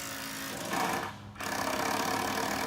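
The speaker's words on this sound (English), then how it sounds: "They're working on the framing." Construction workers framing a deck in a yard produce a continuous rapid mechanical rattle from a power tool, which drops out for a moment and then resumes, fairly loud and near.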